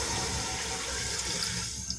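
Water poured steadily into a cooking pot for aloo matar pulao, about 1.5 litres over soaked rice, a continuous close splashing rush with no talk.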